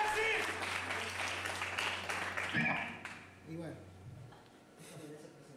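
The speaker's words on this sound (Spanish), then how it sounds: "Un fuerte aplauso para la comunidad galesa" Audience applause at a live stage presentation, dense clapping that fades after a few seconds into quieter room sound with a voice speaking over the tail end.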